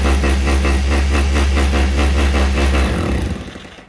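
An electric concrete drill in chiselling mode hammers loudly and close up, a fast, even rattle of rapid impacts over a low motor drone that winds down and fades after about three seconds.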